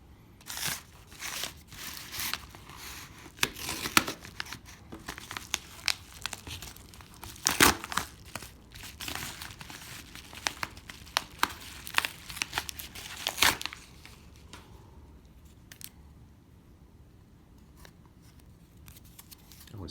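Scissors snip and crinkle through plastic trading card packaging from a WWE and sports card mail day, a busy run of close crunching cuts and rustles for most of the span, then trailing off into quieter handling near the end.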